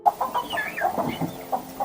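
A hen in a henhouse clucks in short, agitated bursts while a fox attacks, fairly faint and irregular, with quick repeated calls.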